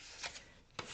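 Playing cards shuffled and handled in a few quick riffling, rubbing bursts, close and fairly quiet with no talk.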